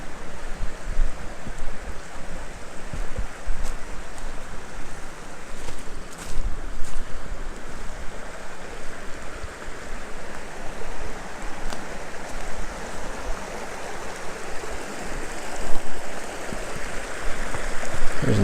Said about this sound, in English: There's a little waterfall right there.